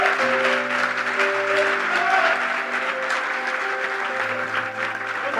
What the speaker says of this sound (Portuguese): então aplaude Jesus aí, vai.